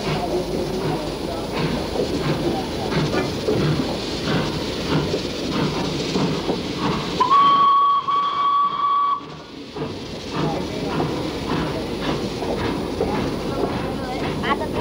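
A steam locomotive on an Indonesian railway hisses and rumbles amid busy background noise, with a brief steady whistle blast in the middle, fairly near.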